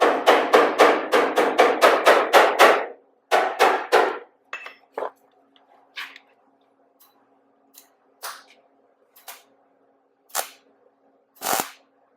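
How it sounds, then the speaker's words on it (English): Welding a seam on a Nash headlight bracket: a string of short, sharp crackling bursts, close and fairly loud, spaced unevenly with quiet gaps as the arc is touched and restarted. "See how I start the weld like that?"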